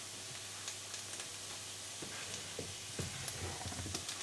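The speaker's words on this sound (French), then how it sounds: "l'ail et l'oignon sont en train de revenir" Courgette rounds frying in a pan with garlic and onion give a soft, steady sizzle, with a few light clinks and stirring taps over the continuous hiss.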